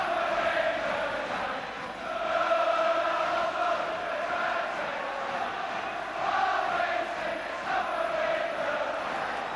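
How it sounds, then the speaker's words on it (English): Arsenal supporters chanting and roaring together in a packed football stadium during the 1980 FA Cup semi-final second replay against Liverpool, a sustained, swelling crowd noise that rises and falls in waves throughout. "you can hear the Arsenal voices in the crowd at the moment"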